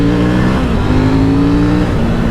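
A KTM Duke 890 GP motorcycle engine drones steadily at high revs, close and loud, with a slight rise and fall in pitch.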